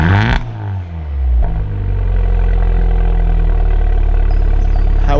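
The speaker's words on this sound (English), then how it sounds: "the car sounds significantly better on cold startup" An Audi TT engine cranks and catches on cold start, revving briefly before its exhaust settles into a loud, steady, rumbling idle close by.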